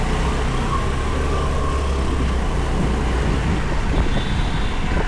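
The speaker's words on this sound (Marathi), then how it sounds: "गावात ट्रॅफिक" Traffic on a village road, a steady close rumble of passing vehicles and engines with a continuous roar, no voices.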